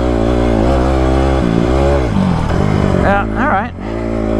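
Honda CRF150R dirt bike engine revving loudly and close during a desert ride, a sustained roar that dips briefly then climbs again as the rider takes a jump, with a short spoken exclamation near the end.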